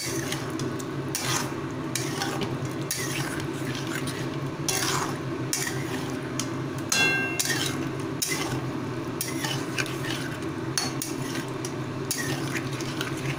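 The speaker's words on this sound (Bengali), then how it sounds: "পাঁচফোড়ন যে গুঁড়োটা করে রেখেছিলাম সেই গুঁড়োটা এবার আবারও ভালোভাবে নাড়াচাড়া করে নেব" Ground five-spice powder is stirred through a pan of cooking food, a steady scraping and rubbing over a constant sizzling bed, with occasional utensil clinks and no talk.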